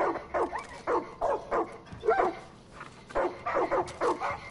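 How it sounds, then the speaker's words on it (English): A dog in the Far Cry 5 video game gives a series of short whimpering barks and yips in irregular bursts, close and clear, with brief pauses between groups. "Why is that dog just standing there?"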